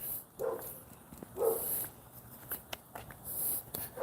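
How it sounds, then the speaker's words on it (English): Dogs, including an old Siberian Husky, bark a few times on a walk, faint and somewhat distant, with quiet gaps between the short barks. "All right, these dogs be barking."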